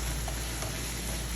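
Mung beans go into a hot pan and sizzle steadily, a soft continuous frying hiss with faint stirring, close but quiet and without speech.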